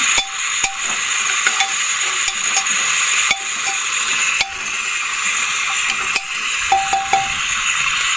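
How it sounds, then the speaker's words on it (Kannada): Ginger garlic paste fries in a pan for chicken masala, a steady loud sizzle with repeated sharp clinks and scrapes of a spoon stirring against the metal, close and without speech. "ಶುಂಠಿ ಬೆಳ್ಳುಳ್ಳಿ ಪೇಸ್ಟ್ ಆಗ ಫ್ರೈ ಮಾಡ್ತೀವ"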